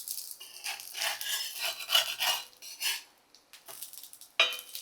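Moong spinach pancakes in a pan with a little ghee or oil, giving a soft scraping and rubbing of the spatula, a gentle sizzle underneath and a sharper clack near the end, fairly quiet.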